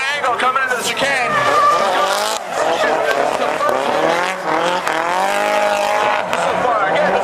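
2000 Nissan S15 with a 450 hp Tomei engine and Nismo six-speed drifting through a chicane on a track, loud continuous tire squeal over a wailing, shifting engine note, with a commentator talking throughout.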